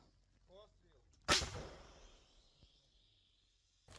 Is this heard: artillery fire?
yes